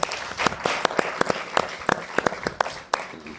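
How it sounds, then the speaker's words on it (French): An audience applauds a choir at a church gathering: a short burst of scattered, uneven hand claps, fairly close, with no voices over it. "Est-ce qu'on peut acclamer pour la chorale?"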